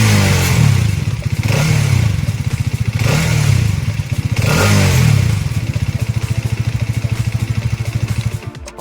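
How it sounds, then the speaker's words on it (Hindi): A Hero Xtreme 250R motorcycle engine revs up and drops back in repeated surges, loud and close, then settles into a steady idle putter with a faint metallic spring-like ring as the throttle suddenly falls. "थ्रॉटल के सडन ड्रॉप होने पे एक हल्की सी मेटेलिक स्प्रिंग जैसी ट्रिंग करके साउंड आती है"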